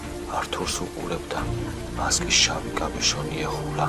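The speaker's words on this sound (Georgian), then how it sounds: "ირგვლივ მხოლოდ წვიმის ხმა ისმოდა." Steady rain patters beneath a narrator's voice in a dark, suspenseful story, forming a soft continuous wash throughout with low rumbles underneath.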